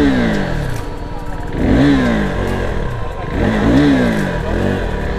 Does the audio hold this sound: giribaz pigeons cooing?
no